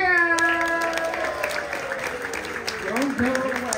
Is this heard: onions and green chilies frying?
no